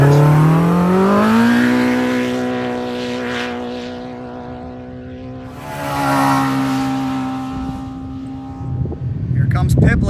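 An off-road race vehicle roars past during desert qualifying, its engine pitch dropping in a loud Doppler sweep, a second pass swelling around the middle, and gritty wind and rumble building at the end; a commentator's voice is faintly present.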